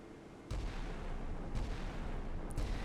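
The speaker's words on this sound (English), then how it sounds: "The second ship has begun firing now." Heavy naval guns boom repeatedly in the Sea Power naval combat game as a ship opens fire, with three deep, loud reports roughly a second apart over a constant low rumble.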